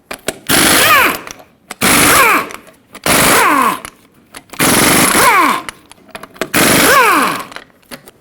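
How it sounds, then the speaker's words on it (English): A tool turning a 21mm socket removes the wheel lug nuts on a 2011-2016 Ford F-350 in five loud, close bursts of roughly a second each, each ending in a falling whine, with short pauses between them. "So with a 21mm socket, remove them all."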